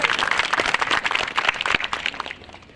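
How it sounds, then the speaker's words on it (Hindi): Audience applause fills a college annual prize distribution function, a dense, steady clapping from a large crowd that carries on evenly before easing off toward the end. "मैं चाहूंगा कि आप लोगों की तालियों से एक बार फिर से महोत्सव हो जाए।"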